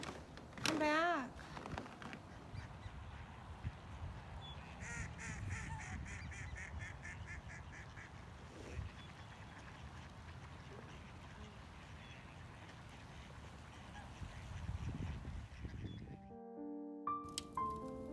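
Ducks and geese quack and honk outdoors in a busy, continuous chorus of overlapping calls over constant background noise, with a voice speaking near the end.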